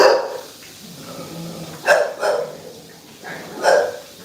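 Several American Bully dogs bark close by in separate sharp bursts, about three loud barks spread across a few seconds with quieter whimpering sounds between them.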